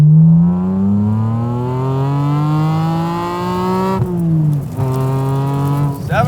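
A naturally aspirated S54-engined BMW Z4 M Coupe revs hard and close, its pitch climbing steadily for about four seconds, dipping briefly at a shift, then pulling up again with no talking.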